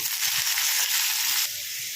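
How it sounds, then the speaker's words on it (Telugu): Chopped onions dropped into hot oil with dried chili for a loud, continuous sizzling hiss that eases slightly near the end, close by and with no voices. "ఇది కట్ చేసిన ఉల్లిపాయ ముక్కలు వేసుకుందాము"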